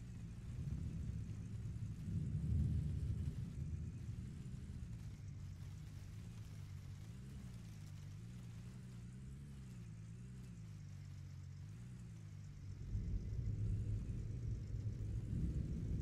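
A thunderstorm in the video game Gold Rush: The Game, a steady low rumble of rolling thunder that swells near the start and again toward the end, with no talking.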